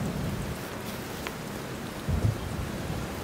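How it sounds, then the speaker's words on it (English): Steady rain pours down, and a brief low rumble of thunder rolls in about two seconds in before the rain carries on alone, with no voices. "It's raining, but how?"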